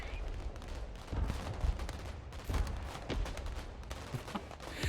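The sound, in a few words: mortar firing in Broken Arrow video game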